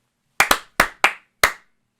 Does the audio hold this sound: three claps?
yes